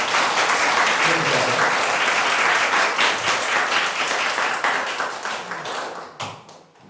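A church congregation bursts into loud, sustained applause during a Pentecost Sunday Eucharist service, full dense clapping that thins and fades toward the end.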